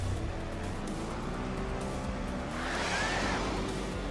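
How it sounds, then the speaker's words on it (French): A motorbike engine in Trials Fusion drones continuously as it accelerates, a steady, moderately loud motor tone with a rising whoosh near the end. "mais les motos, je fais qu'accélérer là quasiment"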